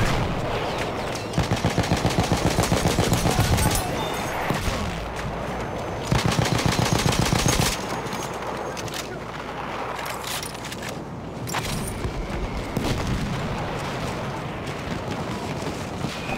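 Battlefield 1 conquest battle on Monte Grappa: rapid, loud bursts of automatic gunfire come in clustered volleys, mixed with heavier booms of mortar fire and scattered shots, with no talking.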